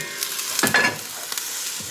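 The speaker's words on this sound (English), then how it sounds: "Let me whisk the egg." An egg being whisked by hand in a bowl while cabbage roll stuffing is being prepared, giving a short burst of brisk scraping strokes, close and moderately loud, with quieter scattered taps before and after and no talking.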